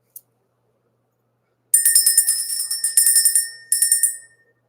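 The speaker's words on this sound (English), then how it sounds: "Let's ring the bell." A bell rung to clear energy during a live spiritual session: three bursts of bright, rapid, shimmering ringing, loud and close, after a brief click and silence.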